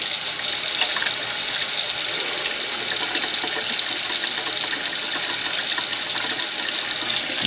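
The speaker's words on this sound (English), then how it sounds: "you can hear the drain running." Water runs steadily down a plugged kitchen sink drain, a continuous broadband rushing gush that stays even and fairly loud for the whole stretch, with no talk over it.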